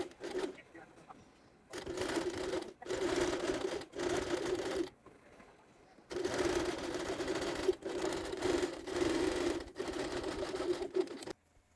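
A sewing machine quilts grid lines through outer fabric and batting, running close by in several sustained stitching stretches with a whirring hum, separated by brief stops.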